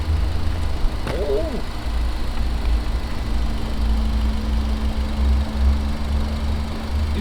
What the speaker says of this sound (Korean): 일정하게 지금 엔진 소리만 들려요